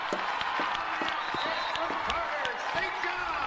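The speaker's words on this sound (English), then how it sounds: "Crowd's going nuts" Crowd at an IHSAA high school basketball game between Guerin Catholic and Chatard erupts after a layup, sustained cheering and applause with scattered sharp bounces or claps, commentary voices running underneath.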